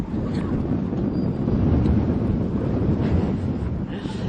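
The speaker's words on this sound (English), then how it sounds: "we've got some incredibly windy conditions, very gusty winds out here" Gusty wind during a snowstorm in the New York area, heard as a steady, loud roaring rush buffeting the microphone with slight swells, continuous throughout without a break.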